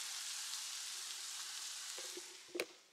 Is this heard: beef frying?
yes